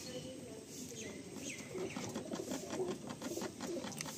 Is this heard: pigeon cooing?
yes